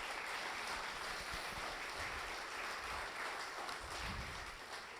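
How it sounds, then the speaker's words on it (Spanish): Faint, distant congregation applause at a church family meeting, a continuous soft wash of clapping with some nearer claps, heard alone. "Le damos un aplauso al Señor"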